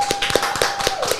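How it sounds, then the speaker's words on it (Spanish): Scattered hand claps greet a guest arriving on a podcast set, a small group clapping briefly and unevenly at close range with a steady tone lingering in the background. "Recibamos con un fuerte aplauso a Tony"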